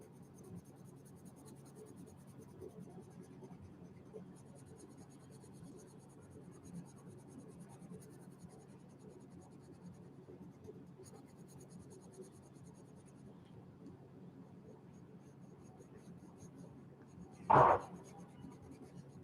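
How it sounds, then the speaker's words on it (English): Soft, steady scratching of colored pencils on the paper of a Korean coloring book runs throughout, faint and continuous, broken near the end by one brief louder knock. "We're coloring in a Korean book."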